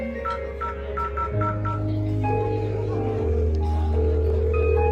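A telephone being dialed: a quick run of short touch-tone beeps over a steady low hum, with faint voices in the background.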